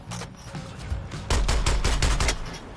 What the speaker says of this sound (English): Shotgun seemed like it just fired really quicker there than I expected it to shoot.